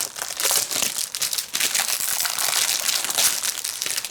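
Plastic packaging around a set of Diamond Press nesting dies being opened, with continuous close crinkling and crumpling of stiff plastic, a few sharper crunches, fairly loud and busy throughout, no voices.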